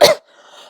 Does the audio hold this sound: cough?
yes